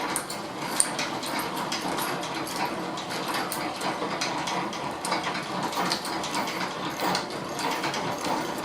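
A hand-cranked honey extractor spins frames of freshly uncapped honeycomb, giving a steady whirring, rattling mechanical drone with ratchet-like clicks that continues evenly throughout, with no talking.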